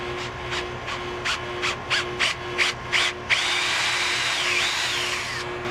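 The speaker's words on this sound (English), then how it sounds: "I'm gonna drill pilot holes for the leg bolts." A power drill bores pilot holes for leg bolts while a retractable hose reel is mounted, running in about seven short whining bursts with brief pauses, then one longer steady run, close and loud over a constant background hum.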